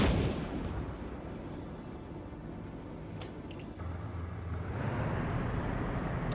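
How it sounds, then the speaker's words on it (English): Tank cannon fire in Arma 3, a heavy low rumbling boom within continuous loud battlefield noise and engine drone, dense and sustained throughout. "that tank shell definitely got their attention"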